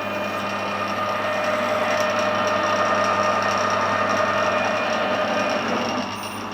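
A small drill bit from a fine metric set spins true in a machine, making a steady, even whine that holds throughout and dips slightly just before the end.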